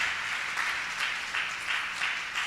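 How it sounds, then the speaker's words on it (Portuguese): A church congregation applauds, a steady wash of many hands clapping with gentle rhythmic swells, moderately distant and continuous, with no speech over it. "Vamos aplaudir a Ele."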